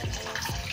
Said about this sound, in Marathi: 2 कप पाणी टाकायचं.